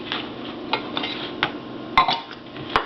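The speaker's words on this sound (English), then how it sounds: "so we can scoop it into cookies" Peanut butter cookie dough scooped onto cookie sheets, heard as scattered light clinks and taps of a metal scoop against pans, close by and irregular.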